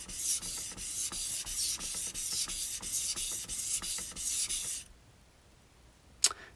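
Steady rhythmic scraping of a Japanese knife blade stroked back and forth across a wet whetstone, close and continuous, then stopping before a single short clink.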